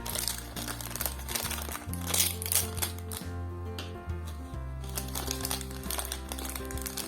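Packaging of a handmade Christmas tree toy kit being opened: plastic and paper crinkle and rustle in close, uneven bursts over a low steady background hum.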